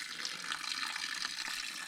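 Gray water gravity-feeding from a hose into a small 40-gallon watering trough, a steady, close splashing stream with an even, continuous hiss.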